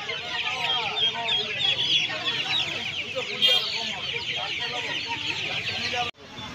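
A crowd of chickens clucks and chatters continuously at a poultry market, with a few sharper calls and some faint background voices.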